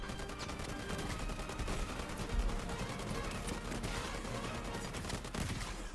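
Sustained gunfire from the Highguard video game, with dense bursts of rapid automatic shots mixed with single cracks that run continuously at a moderate, even level, and no voices.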